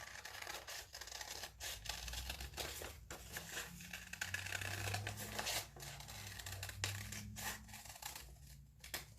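Scissors snipping through paper to cut out a heart shape, close crisp repeated cuts and paper rustling, with a soft voice murmuring in the background.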